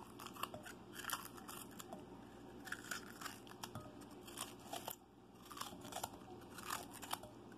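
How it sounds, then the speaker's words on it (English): A kitchen knife slicing raw bitter gourd (karela) into rings, quiet crisp crunchy cuts repeating at an uneven steady pace, close and alone without talk. "Just cut up the rings."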